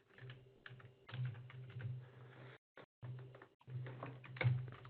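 Close, steady typing on a computer keyboard, rapid clicking keystrokes in uneven bursts with a couple of brief pauses, no voices.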